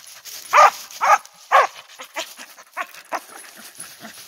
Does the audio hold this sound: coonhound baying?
yes